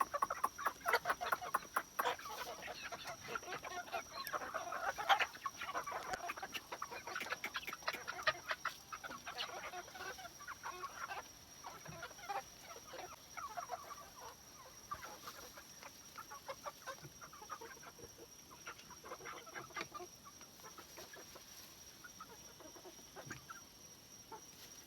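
Chickens clucking near their coop on a rainy farm evening, a busy overlapping flock of clucks and squawks throughout, moderately close, with a constant high insect-like hiss in the background.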